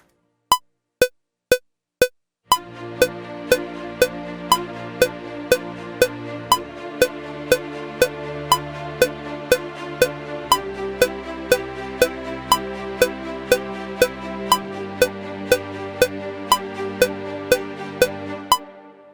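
A simple repeating piano-like ostinato pattern plays steadily, following sustained chords that shift beneath it, preceded by a few lone ticking clicks at the start.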